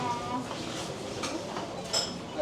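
Chopsticks clinking against a bowl while mixing tantan men, a creamy sesame ramen, in a busy restaurant near Tokyo Station, light clinks over constant background chatter.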